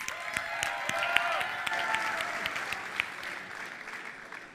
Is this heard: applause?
yes